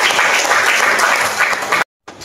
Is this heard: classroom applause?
yes